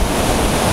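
Storm surf on the sea at Simeiz, Crimea, a steady loud broadband roar of breaking waves and wind noise filling the whole moment with no voices.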